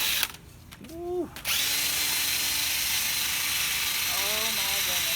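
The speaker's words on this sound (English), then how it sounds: "anytime you hear the drill, you hear like it's grinding on itself" A power drill spinning a dryer vent cleaning brush whirs up, cuts out, then runs steadily with a scraping, grinding rattle, briefly changing pitch near the end.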